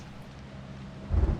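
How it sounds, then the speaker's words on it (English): Thunder rumbles low and heavy in the horror video game Outlast 2, swelling suddenly near the end over a steady rain-like background hiss, with no talk. "the thunder scared me"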